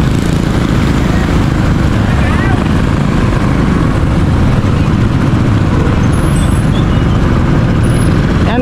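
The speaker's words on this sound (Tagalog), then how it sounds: "Traffic na ngayon eh." Heavy road traffic with buses and trucks rolls past near the market in Barotac: a dense, loud, steady rumble fills the scene, with brief high hisses like air brakes around the sixth and eighth seconds.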